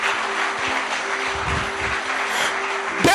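Church congregation applauding during a sermon, a sustained rattle of many hands with a steady low hum underneath, sounding moderately close and lasting the whole moment.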